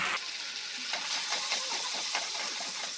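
Spice paste of green chilli paste, ginger paste, turmeric and salt frying in hot oil, a steady close sizzle and hiss with faint stirring scrapes.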